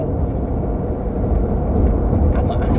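Steady road rumble from inside a moving car while passing a line of school buses, a constant low roar with brief hissing swells as vehicles go by.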